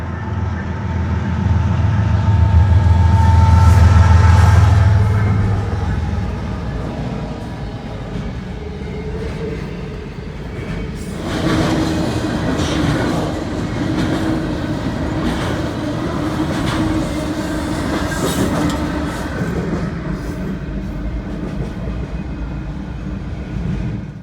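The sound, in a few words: Norfolk Southern intermodal freight train with GEVO locomotive passing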